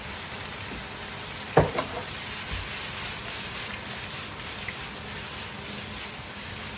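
Soy sauce hits a hot pan of chicken with a steady hiss and sizzle, a brief sharp clatter early on, then continuous frying noise with no talking.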